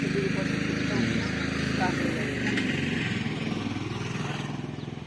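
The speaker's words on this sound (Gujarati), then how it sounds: "સંજયભાઈની બાઈક ગઈ છે પણ 500" A motorcycle engine hums steadily up close, then fades slightly as the bike pulls away.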